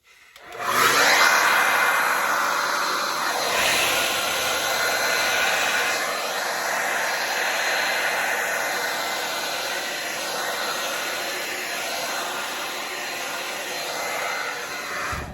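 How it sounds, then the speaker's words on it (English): A hair dryer switches on and blows with a loud, continuous whooshing roar that holds steady throughout, wavering slightly as it moves. "let's get the hair dryer"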